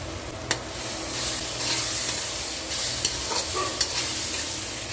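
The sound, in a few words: garlic added to fried onions, stirred in pan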